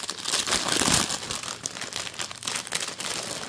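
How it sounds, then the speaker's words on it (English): A wrapped Christmas gift package is unwrapped up close, with loud, continuous crinkling and crumpling of paper and brief tearing sounds, with no talking. "I'm not gonna talk while I'm unwrapping because I know you can't hear me."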